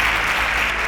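A studio audience on a Nigerian quiz show applauds a contestant after a correct answer, steady dense clapping filling the whole second at close, even loudness.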